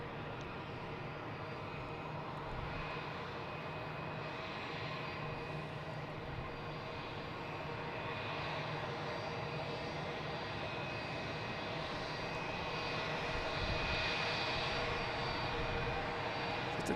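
A Spirit Airlines jet taxiing to the gate at Boston Logan airport at dusk, a steady whining jet engine drone that swells slightly louder toward the end, heard from a distance with no talk.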